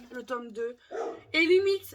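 A dog gives a short, close bark over someone speaking French, with a low steady hum underneath.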